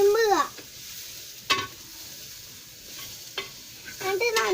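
Chicken with onion and masala is stirred and mixed in a pan, with scraping and soft sizzling. A few sharp clinks and scrapes stand out over a quiet frying hiss, and brief high tones appear near the start and end.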